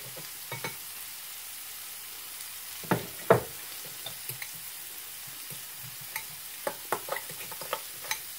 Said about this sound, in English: I leave the pepper out, then I mix in the cheese